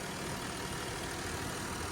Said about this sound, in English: But there's that TDI engine.